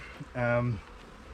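A short, droning buzz of honey bees swells for about half a second against a quiet background, then fades.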